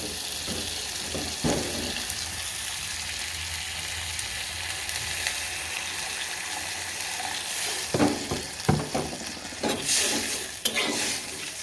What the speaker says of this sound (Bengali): এখন একটু পানি দিয়ে দেবো।